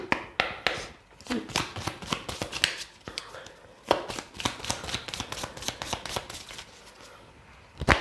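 Oracle cards shuffled by hand for a tarot-style reading, a steady run of close, crisp riffling flicks and soft slaps lasting throughout, with faint breathy voice in the background.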